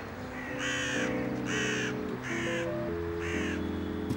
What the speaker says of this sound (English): The botanical gardens in Paris attract several dozen crows because it's a good place for a free picnic.